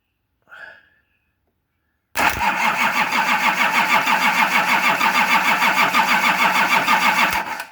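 A Nissan LD28 diesel engine cranks on the starter without catching, a loud rhythmic whirring churn lasting about five seconds before cutting off, preceded by a brief faint sound and silence.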